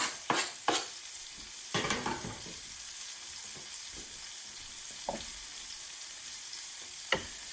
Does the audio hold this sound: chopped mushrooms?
yes